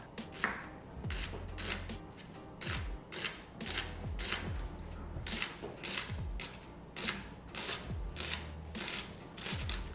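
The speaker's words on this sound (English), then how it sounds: "Then we'll finally dice a small shallot." A knife dices a small shallot on a cutting board, giving a steady run of crisp, close chops with short pauses between bursts, heard alone with no talking.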